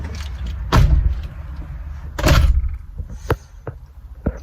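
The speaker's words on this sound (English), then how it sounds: "Yeah, close your door." A car door shuts with a solid thump at close range, followed by a second similar thud a moment later and some lighter clicks, with no talking over it.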